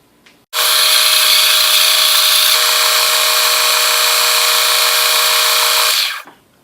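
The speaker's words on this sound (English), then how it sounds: "Well, let's hit the sander." An electric sander grinding a steel throwing knife: a loud, steady high-pitched whine that starts abruptly, holds for about six seconds and then winds down, with no talking.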